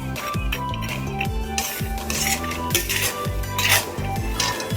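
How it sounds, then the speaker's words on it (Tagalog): Spoon stirring sugar into a metal cooking pot, repeated scraping and clanking strokes in a quick irregular rhythm, loud and close, with faint frying underneath. "Tapos ihahalo na natin ang ating asukal dyan."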